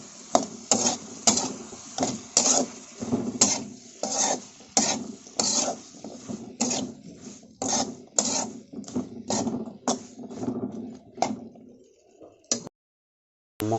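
Vegetables are stirred in a pan with a utensil, giving a long run of rhythmic scraping and clattering strokes over a light sizzle, close and steady for about twelve seconds before stopping, no talk.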